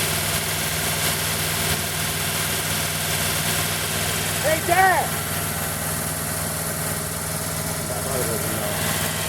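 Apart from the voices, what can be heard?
1940 Buick straight-eight engine idling after first start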